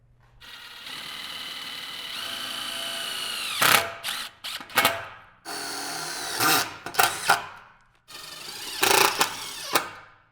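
A power drill drives screws to fix a gate hinge into a railing post, running in several close bursts that whine up and stop, with short pauses between them and no talk.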